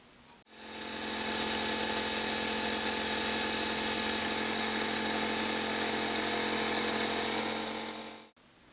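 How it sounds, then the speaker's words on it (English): A manual milling machine cuts aluminum with a small cutter while an air nozzle blows the chips clear, giving a steady, loud, close whine and hiss that starts and stops abruptly. "I have an air nozzle here blowing on the cutter to clear the chips"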